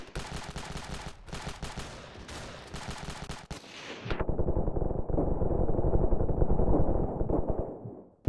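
Sustained automatic gunfire rattles in the video game Ravenfield, loud rapid bursts under an infinite-ammo cheat, then a denser, lower, continuous barrage that keeps firing without pause until the end.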